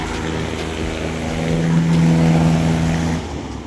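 A tractor engine roars as a stuck tractor is pulled free with help from a second tractor, a loud steady close drone that swells midway and then drops off near the end.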